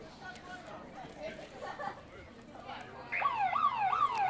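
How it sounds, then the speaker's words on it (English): A rising and falling siren sounds the half-time break at a men's Premier League field hockey match, starting partway through and continuing loudly over crowd noise and a commentator talking. "I seem a little bit surprised by the sirens because the first half has flown by."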